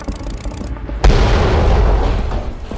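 A helicopter crash explosion erupts as a sudden loud boom after a quieter lead-in, then a dense, roaring rumble of debris and fire that sustains and slowly fades, with no voices.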